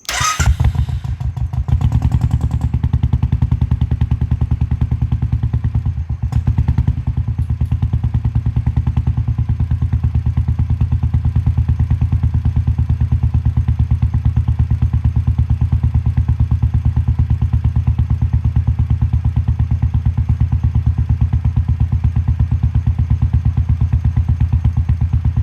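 A Royal Enfield motorcycle engine runs close and loud, a continuous low thumping idle that holds steady throughout, with a brief dip early on.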